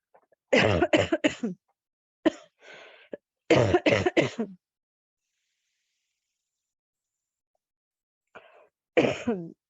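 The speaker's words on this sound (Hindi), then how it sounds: "आज आप लोगों के कान ना फटने वाले हैं जिस तरह से मैं खांस रही हूँ" A woman coughs in harsh, close bursts, several quick hacking coughs in clusters separated by silent pauses, with a throat-clearing sound between them.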